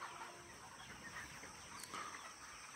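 Dense, constant clucking and murmuring of many 42-day-old broiler chickens inside a poultry shed, with a steady background hum and no distinct single call.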